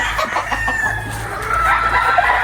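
Fighting chickens, a stag among hens, clucking and calling close by in a yard, with overlapping bird calls over low background noise and no talk.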